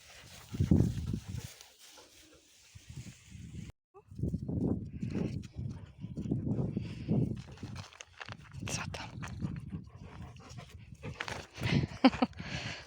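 A blind shelter dog pants in rapid bursts close by, with a person talking softly over much of it and some shuffling movement.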